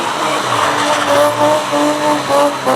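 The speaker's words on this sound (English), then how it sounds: "He's going to be skiing the car, which is what they call getting the car on two wheels." A car skiing on two wheels at a Smokey and the Bandit weekend event: loud, continuous tire squeal and skidding with the engine droning underneath, rising and falling in waves, close by.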